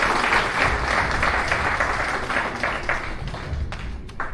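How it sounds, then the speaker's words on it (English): An audience applauds after a Bhagavad Gita lecture, dense steady clapping from many hands that gradually thins out toward the end. "Please give a round of applause."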